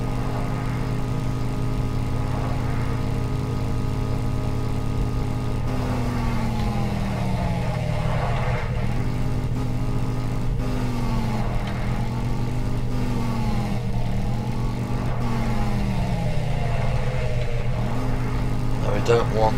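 A hover bike engine in the video game Empyrion drones steadily and close, its pitch swooping up and down repeatedly as the bike is steered, under a constant low hum from start to finish.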